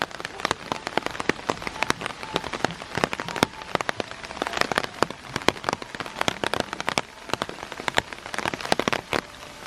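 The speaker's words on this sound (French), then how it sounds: "Il pleut bien." Steady rain in Beppu, Japan, pattering hard on a nearby surface, with dense irregular drops and sharp close splashes throughout, no voices.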